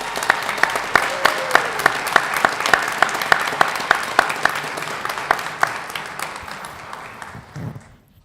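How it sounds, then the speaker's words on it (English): A school board meeting audience gives a sustained round of applause, loud and close with distinct individual claps over a dense wash, tapering off near the end. "Let's give Andres Gil a round of applause"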